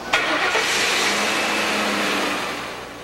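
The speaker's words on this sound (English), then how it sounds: "Listen to your car's engine for clues." A car engine runs with a steady broadband hum that rises briefly at the start, then slowly fades; no voices.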